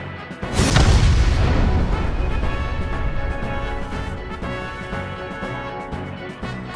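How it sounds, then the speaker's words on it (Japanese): A bomb detonates in the video game AI: The Somnium Files, a single loud, close boom that bursts in and then rolls into a long, slowly fading rumble with lingering ringing debris. "死体の中で導火線の火は爆弾へと達し"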